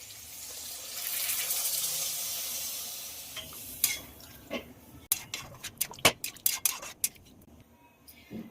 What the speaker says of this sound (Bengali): মশলার বাটি ধোয়া জল দিয়ে দেবো।